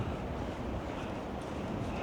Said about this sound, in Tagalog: Medyo malakas ngayon ang hangin